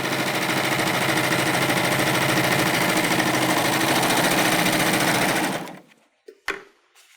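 A Baby Lock Euphoria sewing machine stitches fabric in a steady, loud, fast whir for several seconds, then stops abruptly, leaving a few faint clicks and handling sounds.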